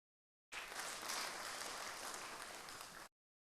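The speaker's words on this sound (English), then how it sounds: "Give her a round of applause." An audience breaks into applause: a dense, even patter of clapping that starts suddenly, holds steady for about two and a half seconds, then stops cleanly. It sounds somewhat distant and moderately quiet, with no voices over it.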